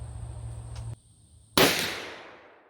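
A Taurus Raging Bull revolver fires a single loud, sharp shot outdoors, and the blast decays over about a second after a brief hush.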